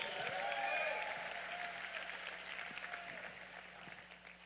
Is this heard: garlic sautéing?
no